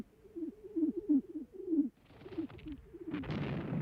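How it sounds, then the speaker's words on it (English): Carrier pigeons coo in a mobile pigeon loft of the First World War at the Somme: a run of soft, low, rhythmic coos, followed by rising hiss and rumbling noise that begins to cover them near the end. "Thousands of birds were held ready in mobile pigeon lofts like this."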